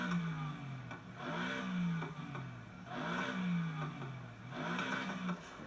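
A 345-horsepower BMW M5 V8 revving in Need for Speed Heat, rising and falling in about three steady rev cycles, near and moderately loud with no talk.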